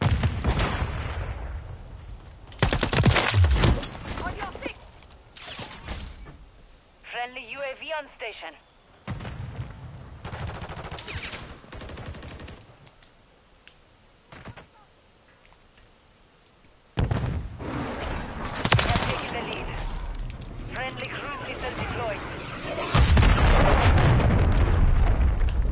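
Loud gunfire and explosive booms from a video game come in dense bursts separated by quieter stretches, with people talking over the action at times.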